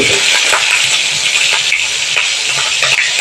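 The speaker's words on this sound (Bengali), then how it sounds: "জিরেটা তেলের মধ্যে আমি একটু ভালো করে নেড়ে নিয়ে আদা বাটা আর লঙ্কা বাটাটা অ্যাড করে দেবো" Cumin, ginger paste and chili paste sizzle in hot oil for a Bengali elephant-foot-yam dalna, a steady bright hiss broken by soft scraping stirs at regular intervals, close and with no talk.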